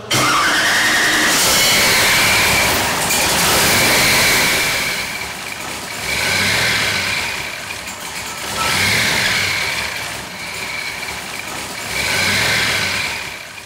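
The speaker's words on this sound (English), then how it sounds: "Notice that traditional blower surge at idle. It's just plain glorious." A 572 Hemi engine with a 10-71 Roots blower idles loudly and close, its roar swelling and fading in a regular surge every few seconds.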